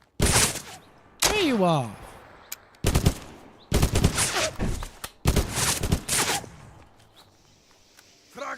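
Gunfire in the retro-style tactical shooter Dagger Directive: loud bursts of automatic shots and single cracks come in clusters throughout, with someone talking between and over them.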